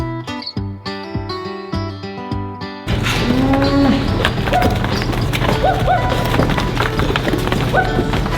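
Cattle on a farm low and moo loudly and close, several drawn-out calls over a busy, noisy barn background, following a short stretch of plucked, rhythmic music at the start.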